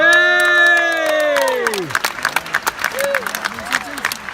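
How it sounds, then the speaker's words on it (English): An arena crowd at a cryptocurrency launch event in Macau cheers and claps; it starts under a loud sweeping tonal sound and then continues as scattered, uneven bursts that grow fainter. "Give him a round of applause."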